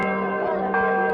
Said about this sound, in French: les cloches ont démarré